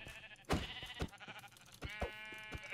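Sheep bleating in the Minecraft video game, a couple of short nasal bleats close up, mixed with sharp clicks and small in-game sounds.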